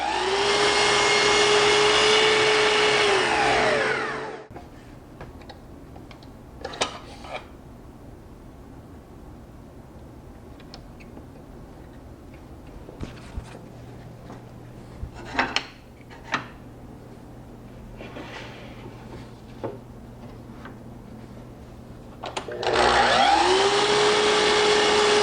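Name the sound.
miter saw cutting wooden boards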